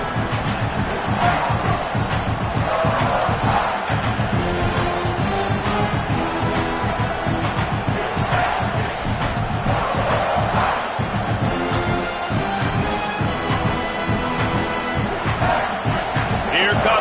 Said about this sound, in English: Second down, and this crowd is turning it up a notch.